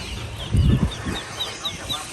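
Chickens clucking and ducks quacking at a fish market poultry stall in Ban Pong, Thailand, a short burst of farmyard chatter, with a louder low flurry near the start and softer repeated calls after.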